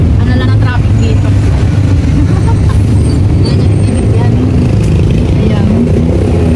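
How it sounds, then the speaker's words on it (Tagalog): Heavy road traffic in Bangkok, a dense rumble of buses, cars and trucks with an air brake hiss, loud and steady throughout, with a voice talking over it. "Traffic na traffic here in Bangkok."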